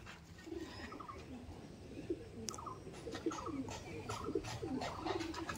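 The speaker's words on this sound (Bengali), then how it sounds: "দেখুন পায়রাগুলো দেখেন" Racer pigeons coo softly in a home loft, with repeated low, throaty calls overlapping at a fair distance under a quiet room background.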